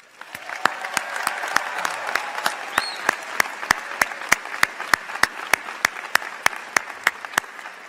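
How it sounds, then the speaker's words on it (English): A large commencement audience applauds the band at a fall graduation ceremony; dense, sustained clapping fills the hall, with sharp individual claps standing out at a steady, almost rhythmic pace throughout. "I would ask that you also join me in a round of applause for the most outstanding band"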